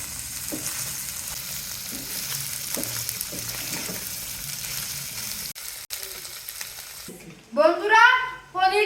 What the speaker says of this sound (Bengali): পনিরটা হালকা করে ভেজে নেব।